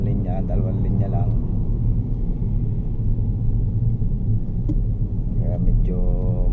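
Cars in slow, congested two-lane road traffic give a continuous low rumble of engines nearby, with someone talking over it for much of the time.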